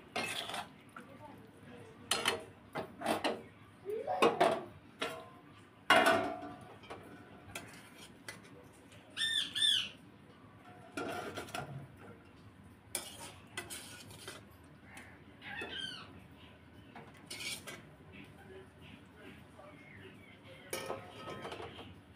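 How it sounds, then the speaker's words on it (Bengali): A spoon scrapes and clinks against a pan while palm sap fritters are stirred, giving intermittent metallic knocks and taps with faint background noise over a long stretch. "এই দেখুন, ভালো করে নাড়িয়ে নেব।"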